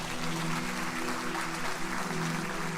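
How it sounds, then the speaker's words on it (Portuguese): Congregational applause in a church service, a steady dense wash of clapping held throughout at moderate level with a faint sustained tone underneath. "Aplauda a presença de Deus."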